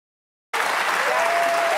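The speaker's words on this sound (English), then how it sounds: "People are actually cheering for that." A studio audience at a daytime talk show bursts into cheering and applause that starts abruptly and holds steady, loud and dense, with no talk over it.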